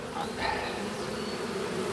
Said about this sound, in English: There's bees in here